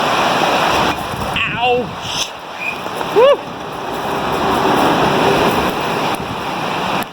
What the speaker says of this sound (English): that's pouring. Wow, I'm getting soaked.